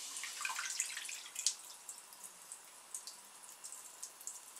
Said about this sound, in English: That's certainly chucking the water out.